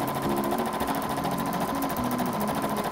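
A sewing machine runs a steady, continuous stitch through skirt fabric, first a few stitches backward and then forward, a close and even mechanical whir with a regular needle rhythm.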